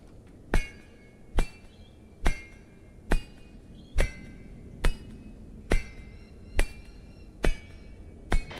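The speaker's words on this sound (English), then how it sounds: "You mined all of the ore you needed for the objective without building a single mining drill." Hand mining of iron and copper ore veins in a video game, rendered as ten evenly spaced sharp pick strikes with a ringing, metallic clink, loud and close with no talk.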